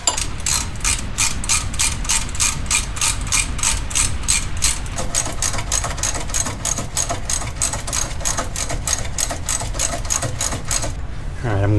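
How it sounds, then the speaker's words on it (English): Milwaukee 3/8 impact wrench working a bolt on a Jeep Gladiator or Wrangler during a leveling kit install, a loud rapid hammering rattle running continuously for about eleven seconds, then stopping abruptly. "Little 3/8 Milwaukee impact has a lot of power."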